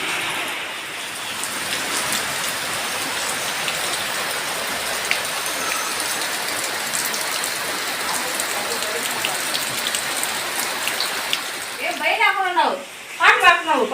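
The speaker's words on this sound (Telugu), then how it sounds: "కన్నుజా ముందు వేసారు కదా, అందుకని వర్షం వస్తుంది" Steady early-morning rain hisses on surfaces throughout, a dense even patter close by; near the end a voice briefly speaks over it.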